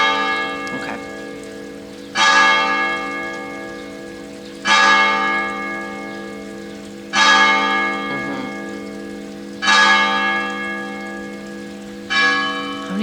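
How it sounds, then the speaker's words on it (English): A church bell tolls five times at a slow, even pace, each strike ringing out and decaying into a long resonant hum. "How many bells you got?"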